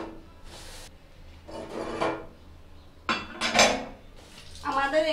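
Scrubbing and wiping of a hot cooking oven right after cooking, heard as bursts of rubbing and scraping with light clinks of metal, moderately close, with short pauses between strokes and no talking.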